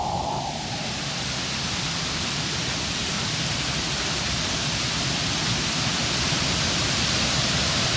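A waterfall in New Zealand roars as a loud, steady, broadband rush of falling water, close and continuous with no break and no voices over it.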